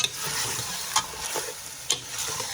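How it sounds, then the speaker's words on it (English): Chicken with yogurt is stir-fried for korma, producing a dense continuous sizzle with a couple of sharp utensil scrapes against the pan, close and without talk. "I am about to add the yogurt in there, and I'm gonna stir fry it again"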